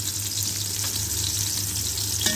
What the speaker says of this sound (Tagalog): mag-brown yung sibuyas para lumasa.